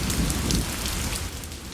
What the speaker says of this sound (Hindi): बारिश ने उसे सिर से पैर तक भिगो दिया था।